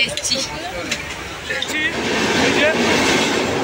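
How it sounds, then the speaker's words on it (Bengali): A train pulling out of Bardhaman station, its rising rumble and wheel noise building steadily on the platform under station babble and bits of nearby talk. "ট্রেনটা চলে যাবে"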